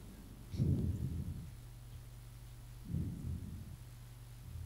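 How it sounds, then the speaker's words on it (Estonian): Two rolling thunder rumbles from a thunderstorm in a Mars survival video game swell and fade a couple of seconds apart over a low steady hum. "torm."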